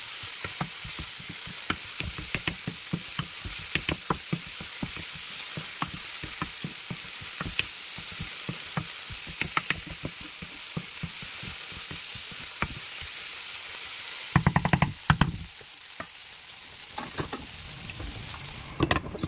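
Soya chunks fry with ginger garlic paste in a pan and are stirred steadily, a constant sizzle broken by rapid scraping and clattering strokes, with a brief louder burst of stirring near the end. No voices.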